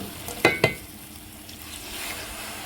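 Chicken and potato curry in a pan, fried down until dry, with liquid added: two sharp clinks, then a soft, steady sizzle that swells slightly toward the end.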